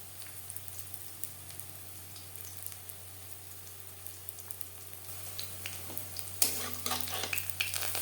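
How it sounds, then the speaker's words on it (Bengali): Mustard flower fritters fry in a small batch in a pan of oil, a faint steady sizzle over a low hum that turns louder and busier near the end with a clatter as more batter goes in. "একবারে বেশি ভাজবো না যতটা আমার কড়াইতে ধরে আমি ততটাই ভাজবো"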